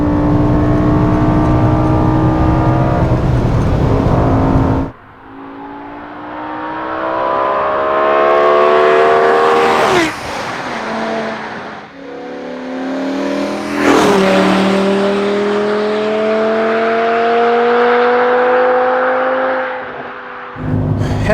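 A BMW M5 engine on winter tires revs hard and accelerates, its loud rising note dropping sharply at several downshifts before climbing again through the gears, heard close and steady with no talk over it.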